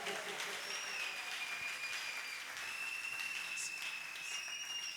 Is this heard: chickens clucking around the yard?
no